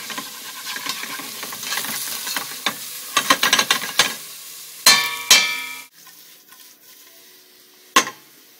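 Curd (paneer) frying in ghee in a pan, a close, loud sizzle broken by bursts of crackling and spattering, a few sharp clattering hits of a utensil, then a quieter simmer with one more clink.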